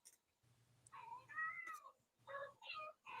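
A house cat meows several times in a row, soft and somewhat distant, with drawn-out, conversational calls over a low background hum.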